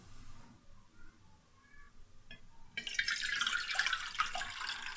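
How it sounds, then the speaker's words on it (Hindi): Water poured into a cooking pot, about three cups, in a home kitchen while making sweet tikiya; a steady splashing rush starts partway through and continues close and fairly loud after a quieter stretch. "हम एक बर्तन लेंगे और उसमें हम 3 कप पानी डालेंगे।"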